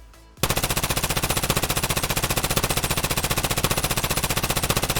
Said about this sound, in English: now we're gonna try shooting while strafing as well